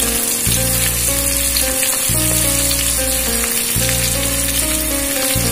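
Onion and torn green chillies sizzling in hot oil for a Bengali spice tempering, a loud, steady crackling fry that fills the whole stretch with no voices.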